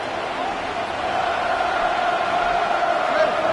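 Stadium crowd in the Madden 26 football video game roaring in a steady, dense wash of noise that swells slightly louder toward the end, with no distinct voices breaking through.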